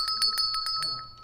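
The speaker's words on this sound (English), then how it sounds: "Oh, I get to ring the bell." A bell is rung on a live café talk show, giving about six quick, evenly spaced clear metallic strikes that ring out and then fade, with faint room noise underneath.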